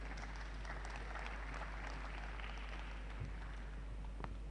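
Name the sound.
applause for the President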